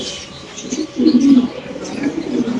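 Pigeons at a home pigeon farm give a low, throaty coo that swells in the middle of the clip, with softer cooing before and after it and faint background sounds.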